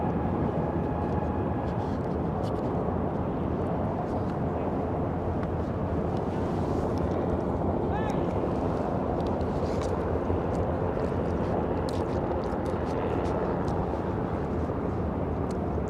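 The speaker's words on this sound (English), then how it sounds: "I'm surrounded by helicopters" Helicopters flying overhead at a Brooklyn market, a loud steady rotor and engine roar that fills the whole stretch without letup.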